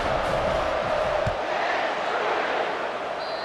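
A stadium crowd in EA Sports College Football 25 roars with sustained cheering and whoops after a special teams score, loud and dense throughout before easing slightly near the end.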